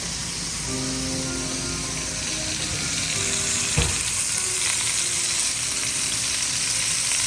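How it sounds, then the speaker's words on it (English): Pork sizzles and fries in hot oil for Puerto Rican arroz con gandules, a steady close crackle with a brief louder pop partway through, and no talking. "be careful with this oil, it's hot. It's going all over the place."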